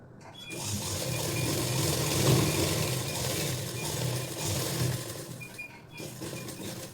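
A sewing machine runs steadily while stitching a long frock, a continuous close mechanical whir lasting several seconds with a brief pause near the end and no voices.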